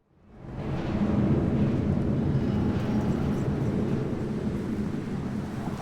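An aircraft sweeps past overhead in the Deus Ex: Mankind Divided video game, a loud, broad engine roar swelling in within the first second and holding steady to the end.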